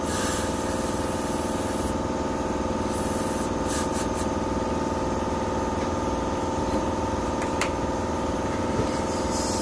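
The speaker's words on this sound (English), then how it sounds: "I'm gonna hit it again with some more spray here." Penetrating spray hisses onto a stuck PTO pulley in a long, steady, close blast. A faint squeak sounds now and then.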